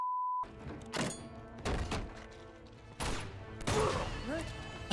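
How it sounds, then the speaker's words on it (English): A grenade explodes in the Uncharted video game with a heavy, muffled thump, one of several booming thuds from gunfire and impacts in a hectic firefight. Someone talks excitedly over the action. "I just threw a grenade"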